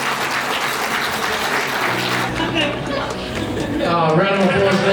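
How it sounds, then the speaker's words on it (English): Wedding guests in Melbourne applaud the newlyweds, a dense, steady wash of clapping mixed with cheering and voices that thins slightly midway and swells again near the end. "Round of applause for our newlyweds."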